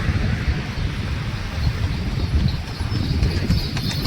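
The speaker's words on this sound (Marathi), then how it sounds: "पुढून घोडा येत आहे बघू शकता" A horse comes along a road with steady clip-clopping hooves, a continuous rhythmic clatter under loud broadband street and wind noise, with no talk.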